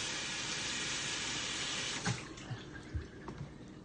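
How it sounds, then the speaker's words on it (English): Water from a kitchen tap runs steadily into a container being rinsed, a broad continuous rush for about two seconds before it cuts off, leaving a few scattered clunks and splashes as the container is handled. "Rinse this out."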